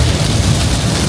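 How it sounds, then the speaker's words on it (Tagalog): Heavy rain drumming on a car while driving home from Subic toward Manila; a dense, loud, steady roar with no talk. "Ito, lakas ng ulan."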